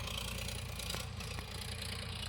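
A small farm tractor runs steadily nearby with a low, throbbing engine drone and a slight rattle, plus a couple of faint knocks over the even rumble and no speech.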